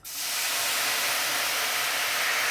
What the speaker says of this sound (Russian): Я снова включаю газ и заливаю все это дело хересом.